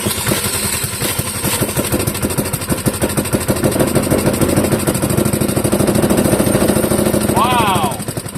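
A Clinton model 3100 small engine fires up and runs with a loud, rapid, rattling putter, close and steady, with a brief whistle-like voice near the end.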